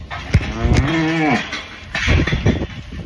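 A cow tied by a halter to a gate and her calf moo on a farm, one long loud moo in the first second followed by shorter lowing calls, close by amid rustling.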